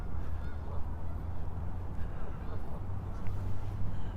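Geese honking near a lake on a snowy October morning in Regina, a steady chorus of calls over low rumbling background noise, fairly close and continuous.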